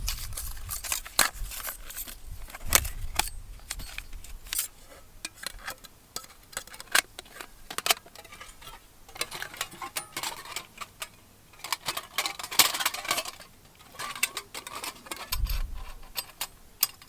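Assembling a Happy Stove camping stove while wild camping in a cave: faint, sparse metallic clicks, ticks and light clinks of parts fitted together, close by in a quiet space.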